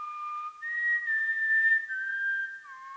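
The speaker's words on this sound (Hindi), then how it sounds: "तुम ये सीटी क्यों बजा रहे हो?" A person whistles a clear, steady tune of sustained tones, close and alone, in a tense thriller scene from the Indian crime series CID.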